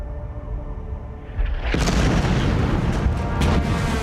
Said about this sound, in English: The whole sky was red with gunfire. Shells were howling over you, exploding around you.